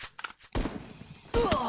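A gunshot rings out in a battle royale video game tournament, with a sharp loud crack followed by a short ringing tail. Then a second burst arrives, brief fainter thumps come before it, and a voice talks around it.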